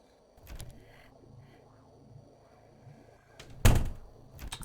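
A door bangs in a horror video game that mimics Baldi's Basics, a single loud sharp slam near the end after a stretch of low, murmuring ambient hum with faint thuds.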